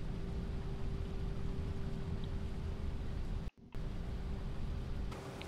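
A tractor in Farming Simulator 25 drives toward the combine harvester, its engine a steady, even drone with a faint constant tone, broken by a brief dropout near the end.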